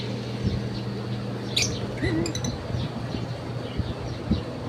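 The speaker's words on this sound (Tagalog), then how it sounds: "may lovebirds, madaming lovebirds" Lovebirds chirp and tweet in short, scattered bursts over a steady low hum and background noise, fairly faint and somewhat distant.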